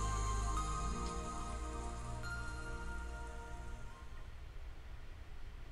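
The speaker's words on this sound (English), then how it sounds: "As we listened to the sound of the rain" Rain from the Umineko visual novel falls as a steady, broad hiss with a low rumble, fading gradually over several seconds and heard alone without speech.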